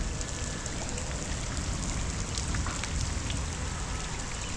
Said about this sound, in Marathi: चांगलाच पाऊस येतो इथं बघा